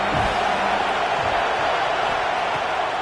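Dense, steady roar of a large stadium crowd at an Auburn college football game, a continuous wash of many voices with faint cheers, heard on its own without close talk.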